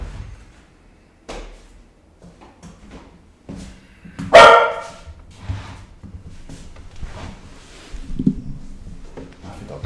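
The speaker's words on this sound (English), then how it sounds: "I'll deal with the dog." A pet dog gives a single loud bark indoors, with softer yips and household knocks around it and scattered movement noise.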